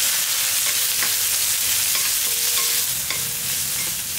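Onion, garlic and green chili fry in a pan for a coconut chutney, giving a loud, steady sizzle with occasional light clinks from stirring.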